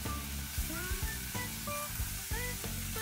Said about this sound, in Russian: Жарим так минуту, регулярно помешивая.